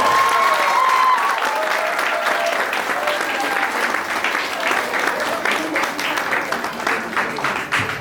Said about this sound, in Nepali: फेरि पनि ताली बजाइदिनुहोस् है।